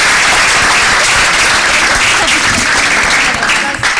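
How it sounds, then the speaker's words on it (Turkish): A hall audience applauds nurses after a health school music choir performance, loud sustained clapping from a large crowd with scattered voices, tapering slightly near the end. "Peki kocaman alkışlayalım hemşirelerimizi."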